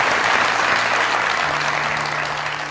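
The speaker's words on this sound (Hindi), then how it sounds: "हमारे लिए तालियां" Studio audience on a TV talk show claps loudly and steadily, a dense continuous wash of applause that fades slightly toward the end, with a faint voice underneath.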